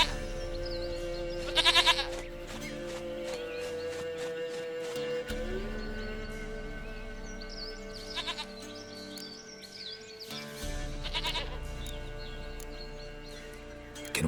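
Several goat bleats ring out in The Witcher 3 video game, a burst near the start and further calls later, set against a steady droning game soundscape with tonal music.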